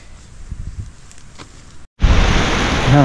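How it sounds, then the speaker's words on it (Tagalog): Strong wind gusting outdoors around a farm trellis and sprayer station, first a softer rustle, then after a brief dropout a loud roaring rush buffeting the microphone, close and continuous. "Lakas ng hangin, no?"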